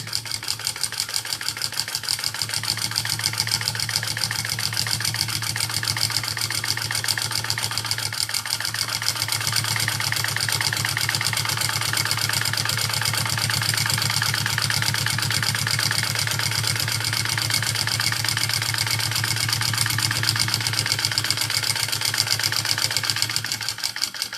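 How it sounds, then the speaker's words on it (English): Sewing machine running steadily while top stitching vinyl on a bag, a continuous close motor hum with rapid needle rhythm throughout, no pauses. "so I'm gonna go ahead and top stitch down"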